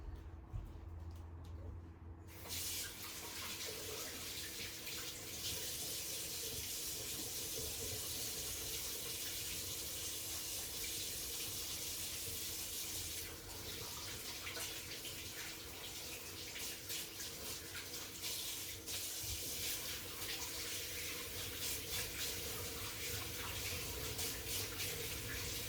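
Tap water runs steadily into a sink for hands being washed, a continuous close hiss and splash that carries on with little change.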